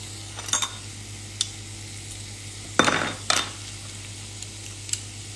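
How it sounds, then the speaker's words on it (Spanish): Garlic cloves are squeezed through a metal garlic press in a home kitchen while cooking Moroccan shakshuka, giving a few short crunchy squeezes and light clicks against faint background hum, with no talking. "voy a agregar el ajo, que lo voy a pasar por esta prensa"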